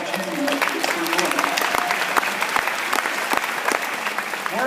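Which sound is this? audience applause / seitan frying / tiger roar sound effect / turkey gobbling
audience applause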